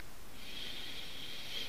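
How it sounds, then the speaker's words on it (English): A nose sniffs at the neck of a bottle of GlenDronach Cask Strength Batch 2 single malt whisky, one steady, close, breathy inhalation lasting over a second with no talking. "Now you can sniff from the bottle"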